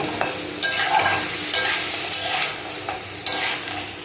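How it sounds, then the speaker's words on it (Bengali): Crab pieces frying with turmeric in a pan, a close, continuous sizzle punctuated by several scraping stirs at irregular intervals, with no talking. "এটা দিয়ে ওই মাছ ভাজার মতন করে অনেকটা আমি এটাকে খানিকটা ভেজে নেব"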